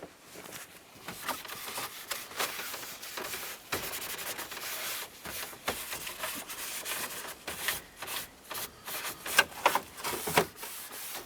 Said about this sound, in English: We're going to clean down the entire mating area, essentially all the way around this trim piece.